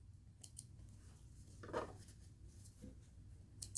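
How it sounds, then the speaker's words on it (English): Scissors snipping the cut ends off a strip of elastic while sewing slim joggers, a single quiet close snip with faint rustling around it in a still room. "I'm just going to snip off the end pieces here with our elastic"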